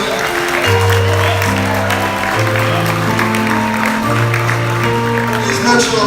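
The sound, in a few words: audience applause at graduation ceremony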